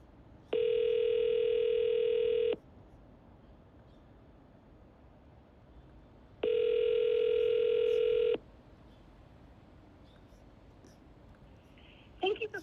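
A telephone rings unanswered on an outgoing call to a brokerage, two long steady ring tones spaced several seconds apart over quiet room hiss, with faint clicks near the end.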